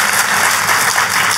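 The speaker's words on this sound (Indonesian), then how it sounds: "kalau mau tepuk tangan, Soho, tepuk tangannya bisa lebih meriah lagi buat Yesus Tuhan kita" A church congregation claps enthusiastically, a loud, dense and continuous patter of many hands filling the room without pause.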